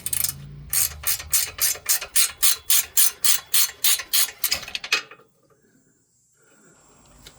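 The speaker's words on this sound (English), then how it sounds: "We're just cracking this ball joint nut loose. 19 millimeter ratchet wrench works fantastic for this." A 19 mm ratchet wrench loosens a ball joint nut under a Hyundai Veloster, clicking in a fast, even series of loud, close ratcheting bursts for about five seconds before stopping, with faint shop noise afterward.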